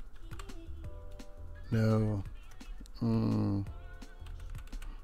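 Rapid computer-keyboard typing while building a PC in PC Building Simulator, a run of close, crisp key clicks with a person speaking briefly over it.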